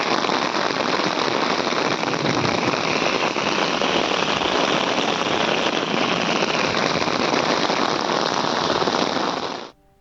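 Hailstorm pelting down in a dense, loud, unbroken roar of countless rapid impacts that ends abruptly.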